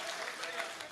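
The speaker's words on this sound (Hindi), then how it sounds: "ताली बहुत बज रही।" A live poetry recital audience bursts into a short, dense round of clapping that fills the space.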